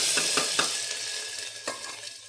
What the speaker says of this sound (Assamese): আৰু এই তেলখিনিতে এয়া নহৰু আদা পেষ্ট